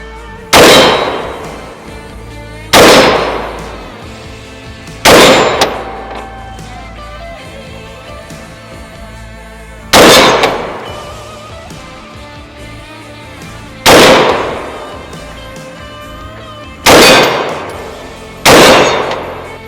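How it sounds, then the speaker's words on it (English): Six loud rifle shots ring out on an outdoor range, each striking a large steel popper target with a sharp metallic clang and a ringing decay, spaced irregularly a few seconds apart with no talk. "Shooting the big popper here."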